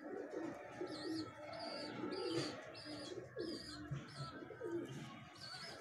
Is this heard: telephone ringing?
no